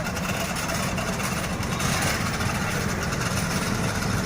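Motorized mechanism of a water control gate slowly lowering the gate, a steady droning machine hum with a low rumbling vibration, continuous and fairly close.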